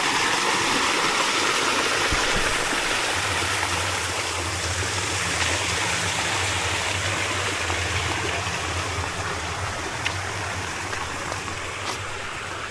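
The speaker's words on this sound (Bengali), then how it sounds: "এখানে ঝর্ণা করছে, কৃত্রিম ঝর্ণা" An artificial waterfall in a safari park pours steadily, a dense broadband rush of falling water close by, with a low engine-like hum underneath for much of the time and no talking.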